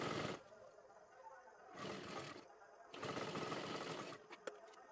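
A sewing machine stitches along the edge of saree fabric being made into a one-piece dress. It runs in three distinct bursts separated by brief pauses.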